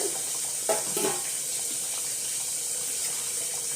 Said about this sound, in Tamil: நல்லா கொதிக்குது